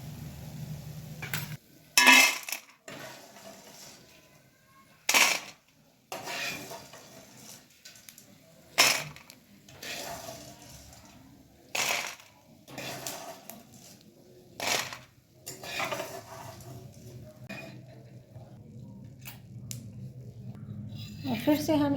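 Fox nuts (makhana) being roasted in a pan, with repeated loud scrapes and clatters of stirring spaced every few seconds and a low steady background between them, close by.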